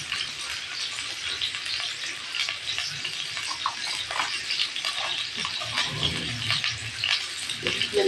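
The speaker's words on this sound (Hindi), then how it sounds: "आलू फ्राई करेंगे" Salted potatoes fry in a pan with a steady, moderate sizzle, joined now and then by soft stirring scrapes and light clinks of a utensil.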